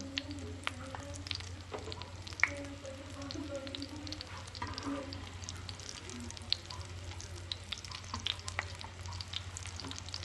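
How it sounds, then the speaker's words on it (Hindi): Shami kebab fries in a pan with a soft, continuous sizzle and light crackling pops as the second side browns; faint kitchen background. "अब इसको दूसरी साइड को ब्राउन करेंगे"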